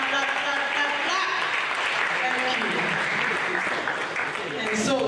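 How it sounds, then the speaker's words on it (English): An audience applauds at the close of the 17th valedictory lecture at the University of Benin. The steady clapping of a large room lasts throughout, mixed with voices. "Please put your hands together as we round off this 17th valedictory lecture of the University of Benin"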